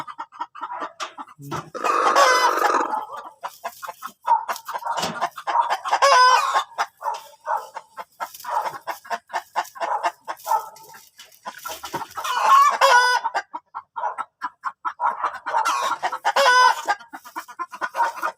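Chickens cluck busily and continuously nearby, with a rooster crowing loudly in a few bursts among the flock.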